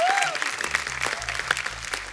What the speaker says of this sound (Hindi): जोरदार तालियां बादशाह पाजी के लिए